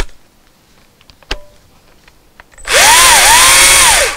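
An electric saw from a Paraguayan saw maker sits nearly silent with a few faint ticks, then starts up and runs loud and steady at full power for the final second and a half, with a rising and falling whine.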